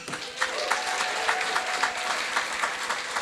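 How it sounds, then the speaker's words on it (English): A Republican dinner audience applauds for Senator Ron Johnson, a dense, steady wash of many hands clapping at close range, with faint voices mixed into the crowd noise. "Let's clap for Ron Johnson."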